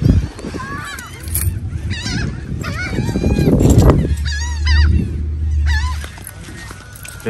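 Birds in Florida honk loudly and repeatedly at close range, goose-like calls overlapping in an irregular chorus, with people talking nearby.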